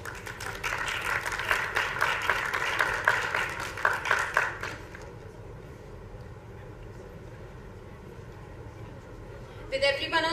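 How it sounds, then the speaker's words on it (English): An audience at a medical conference gives the panelists dense applause for about five seconds, after which the room falls to a low hum with a brief clatter near the end. "Let's give our panelists a huge round of applause."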